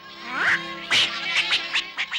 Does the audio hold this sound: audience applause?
no